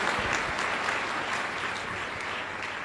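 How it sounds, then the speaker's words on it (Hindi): An audience at a Hindi Christian sermon claps together in thanks, a full, continuous wash of many hands at steady volume from start to finish, with no voices on top. "यीशु मसीह के नाम में ताली बजाकर थैंक्स करो परमेश्वर का"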